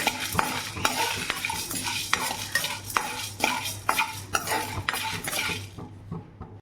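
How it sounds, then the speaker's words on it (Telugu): Two dried red chilies frying in oil on a low flame for chicken rasam, with a steady sizzle under repeated sharp clinks of a spoon stirring against the pan, close and fairly loud, before fading to quiet at the end. "2 ఎండుమిరపకాయలు వేసుకొని ఫ్రై చేసుకుందాం"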